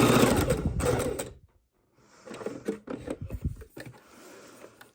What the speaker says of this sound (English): I'm going to sew right across.